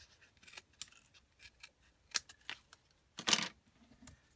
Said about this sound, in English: I'm just going to take a scissors and trim all of these ends even with the bottom edge of our card.